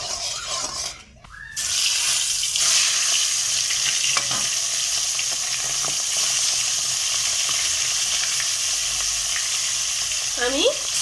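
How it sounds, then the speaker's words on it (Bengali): Bhetki fish fry in salted oil, a loud continuous sizzle close by with a few stirring and scraping touches, after a brief quieter moment near the start. "আমি সব কটা মাছ ভেজে নিচ্ছি"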